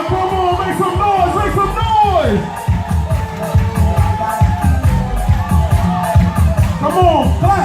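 Wedding guests at a Haitian American reception in an Orlando event center cheer and shout as a crowd, loud and sustained, with an announcer's amplified voice and music running through the noise.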